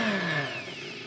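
A coffee grinder gives a brief whining, motorized burst with falling pitch, moderately loud and unaccompanied by speech.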